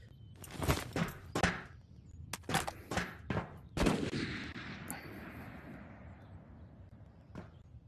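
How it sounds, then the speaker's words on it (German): Gunshots from the VR video game Ghost of Tabor, a handful of sharp cracks clustered close together, then a lingering echo and one faint final shot. "Auf jeden Fall wird irgendwo vor mir geschossen."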